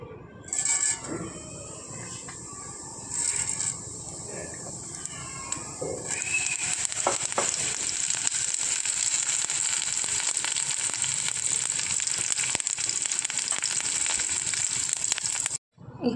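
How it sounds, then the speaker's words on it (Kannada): Spices for a tempering crackle and sizzle in hot oil in a home kitchen, a steady, fairly loud frying hiss that picks up after a few seconds and runs on with scattered pops and clinks. "ಈಗ ಸ್ವಲ್ಪ ಒಗ್ಗರಣೆ ಹಾಕ್ಕೊಳ್ಳೋಣ."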